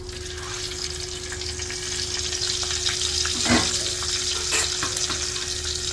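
Whole cinnamon, cloves and cardamom fry in hot coconut oil as the base of a chicken stew, giving a steady close sizzle throughout with one sharp clink near the middle.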